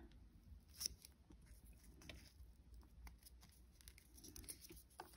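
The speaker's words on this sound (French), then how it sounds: "on va couper ici. Avec des ciseaux, on va bien réussir à faire." Scissors cutting paper to shape a banner for a small Christmas mini album, giving a series of faint, close snips and rustles at a steady crafting pace, alone with no talk.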